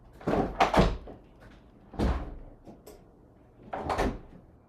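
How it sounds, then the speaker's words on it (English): A door is closed indoors with a few soft thuds and clicks, three separate bursts at moderate loudness with quiet pauses between. "I'm just going to close the door."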